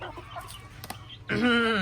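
A chicken at a rural Thai home gives one close, loud, drawn-out squawking cluck after a second or so of quiet rustling.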